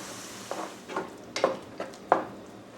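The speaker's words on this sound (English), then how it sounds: "Stir it well." A spoon scrapes around a pan of tomato sauce with oregano, cumin, garlic powder and pepper, giving about five soft, close stirring strokes, with a faint sizzle underneath.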